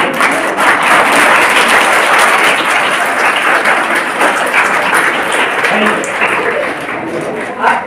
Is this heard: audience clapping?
yes